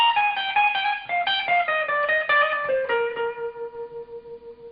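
Electric guitar plays a solo sequence, a quick run of clear, bright notes stepping down in pitch and settling into one long sustained note that fades out.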